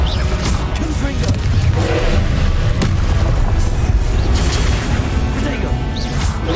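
Confringo blasting spell explosions in Hogwarts Legacy, a dense, loud, continuous roar of booms and crashes with sharp bursts, sustained throughout.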